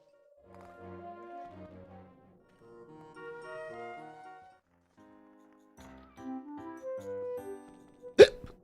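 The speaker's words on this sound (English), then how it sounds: "That was a hiccup." One sharp, loud hiccup bursts out near the end, following a stretch of soft tinkling game music.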